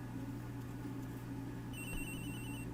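A video game telephone in Ace Attorney ringing with a steady electronic tone, continuous and moderately quiet, with a higher pitched beeping layer joining partway through.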